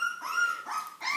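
A young puppy gives a few short, high-pitched yips and whimpering barks in quick succession, fairly close and alone with no talking.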